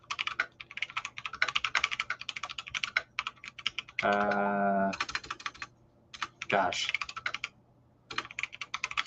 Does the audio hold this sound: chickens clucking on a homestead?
no